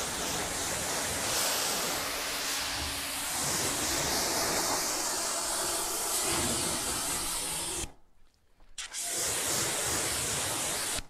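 A hose sprays water onto a vehicle in a steady, broad hiss for several seconds, cutting off briefly near the end before the spray resumes for a moment.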